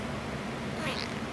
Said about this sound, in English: Where's your meow?